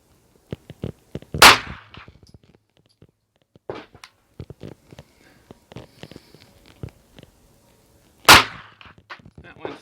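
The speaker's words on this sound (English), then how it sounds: "I'll shoot at the bullseye in the upper left" Two sharp, loud handgun shots fired at a bullseye target 15 yards away with Lehigh Extreme reloaded bullets, spaced several seconds apart with quieter clicks and handling noises in between.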